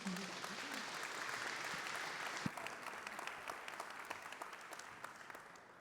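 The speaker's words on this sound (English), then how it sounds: "Give him some applause" Faint, distant audience applause greets a featured speaker, Vladik Kononov, taking the stage at a tech talk, a broad wash of clapping that gradually thins to scattered claps toward the end.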